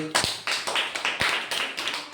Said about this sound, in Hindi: तालियां बजाओ इसके लिए